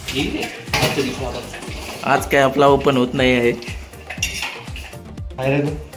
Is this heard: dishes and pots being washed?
yes